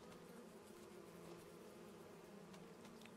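A dense, steady swarm of bees hums continuously around beehives sitting on a log in Farming Simulator 25, a low, quiet drone with no breaks and no talking.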